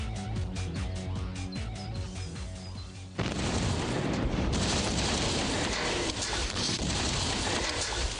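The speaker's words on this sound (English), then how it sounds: "As our cesium sinks in the water, the rapid generation of hydrogen gas should produce quite an explosion." Cesium dropped into water explodes as hydrogen gas is rapidly generated, a sudden loud boom that bursts out midway and gives way to a long roaring, crackling rumble, preceded by a steady mechanical hum.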